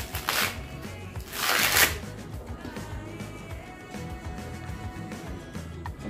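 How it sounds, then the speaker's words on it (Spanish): Husks are peeled off fresh corn cobs for a Salvadoran corn drink, with two loud tearing, rustling pulls near the start, then softer crinkling and papery rustles that continue close by. "Vamos a comenzar a pelar los elotes."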